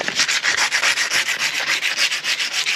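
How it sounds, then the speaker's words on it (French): Brake calipers on an Audi sanded by hand in quick, even back-and-forth strokes, a loud, close, rhythmic abrasive rasp with no talking. "On va poncer les étriers."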